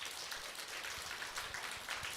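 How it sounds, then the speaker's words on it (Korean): Quiet, distant applause from a church congregation for a worship choir, a soft wash of many hands with a few sharper claps poking through. "우리 에바다 찬양단에서 박수 한번 쳐주세요"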